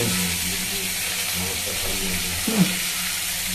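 Ginger-garlic paste hits hot oil in a pan while cooking a prawn curry, giving a steady broad sizzle and hiss throughout, with a brief louder spatter near the end.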